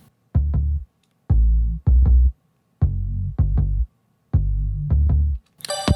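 A deep synth bass plays short, punchy notes in paired bursts separated by silent gaps, ending with a brief bright high-pitched tone.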